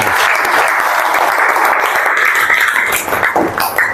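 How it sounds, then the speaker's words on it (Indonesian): Classroom audience applause for a fellow student during a teacher performance test on Islamic education, loud dense clapping that holds steady and thins into scattered claps near the end. "Tepuk tangan untuk teman kita."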